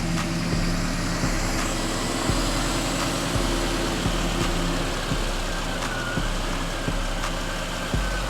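A 1972 car's V8 engine, freshly fitted with replacement heads, runs loud and steady with a deep rumbling idle and periodic low thumps. The power steering pump pulley is bent. No voices are heard.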